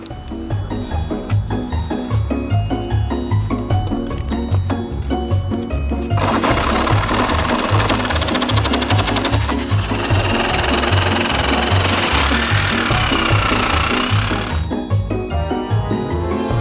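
A DeWalt power tool runs steadily and loudly throughout during a septic pump replacement, its motor whirring with a rhythmic pulsing and a harsher, brighter whine swelling in the middle stretch before easing back.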